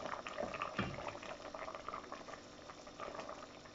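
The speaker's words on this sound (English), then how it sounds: "my sauce is reducing in my oxtail" Jamaican oxtail sauce simmers and reduces in a pot, a steady close bubbling with soft irregular pops and gurgles that run continuously for a few seconds with no voices.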